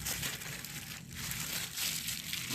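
Plastic milk bag crinkling and rustling in close-up while milk is poured into a pot of rice for rice pudding, with steady crackly handling noise throughout.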